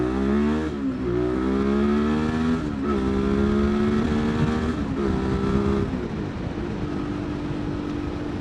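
A 2019 Yamaha MT-07 motorcycle engine revs loud and close while riding, its pitch rising and falling through several gear changes, with steady wind rush underneath and no talk.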